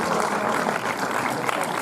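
Audience applause in a cinema at a film premiere, a brief, dense wash of clapping that stays steady throughout, with no speech.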